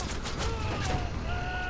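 Video game gunfire in Watch Dogs: a quick burst of rapid shots in the first second, followed by a lingering ringing tail with thin whistling tones.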